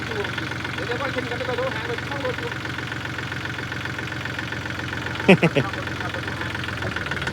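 John Deere 3036E tractor engine running at a steady idle-like drone, close and constant, with a brief louder mechanical clunk partway through.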